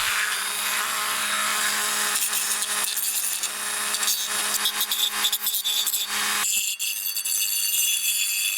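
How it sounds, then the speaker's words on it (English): Burrs being scraped and filed off the cut metal edges of a can for a wood gas backpacking stove: a dense, continuous harsh scraping close to the mic, shifting to a brighter grinding tone near the end. "So I'm going to make sure that all of these burrs are off."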